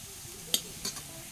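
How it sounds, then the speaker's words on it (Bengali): Potatoes fry in a pan with a faint, steady sizzle, broken by a few sharp scraping clicks of stirring. "আলু ভাজা হচ্ছে"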